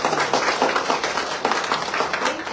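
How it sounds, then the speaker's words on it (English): An audience at a 20th commencement exercise applauds the graduating students with a continuous wash of clapping that swells and ebbs at a moderate, steady level. "So a generous round of applause to all the graduating students"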